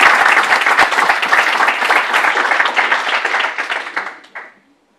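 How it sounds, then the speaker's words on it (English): Audience applause for a conference panel at an innovation loans briefing, a dense even patter of many hands that holds steady for about four seconds, then thins and fades out near the end. "just ask for a round of applause for our fantastic panelists?"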